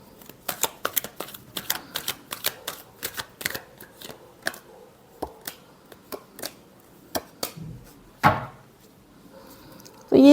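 Tarot cards being shuffled by hand in a quiet room, a series of crisp riffling snaps at an uneven rhythm, close and fairly soft, ending in a couple of louder shuffles.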